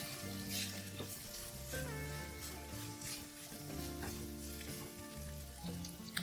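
Ground beef fries in olive oil in a pan for a Bahian-style dish, giving a steady, dense sizzle and crackle throughout, with faint background tones underneath and no speech.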